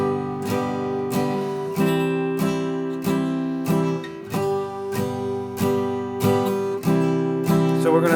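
Guitar strumming chords in a steady rhythm and changing smoothly between them, about a dozen even strokes in eight seconds, close and full with no talking.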